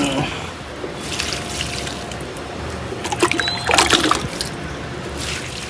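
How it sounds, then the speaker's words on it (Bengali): Water poured onto plants during watering on a sunny day, a close, uneven trickle and splash with a few louder gushes, continuing without talk. "আজকে গাছে জলও দেবো।"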